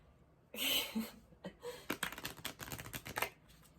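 Tarot cards are shuffled by hand in quick bursts of crisp riffling and slapping clicks, close and fairly loud, with short pauses between flurries.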